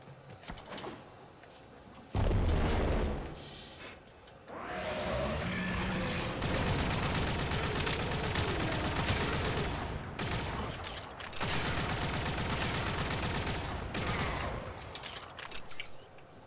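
Kitgun fire in the video game Warframe, a loud sustained burst of rapid weapon shots running for several seconds with short pauses between volleys, layered with in-game effects.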